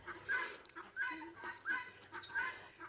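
Guinea fowl call out in a repeated series of harsh, raspy cries, four loud bursts evenly spaced and close by, with no talking.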